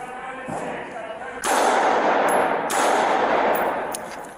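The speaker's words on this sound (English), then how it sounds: "shots fired" Gunfire during an armed escort ambush, a few loud sharp bursts, one sustained for about a second, close and harsh with shouting around them.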